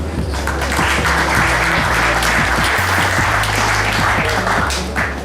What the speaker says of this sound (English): give yourselves a nice warm round of applause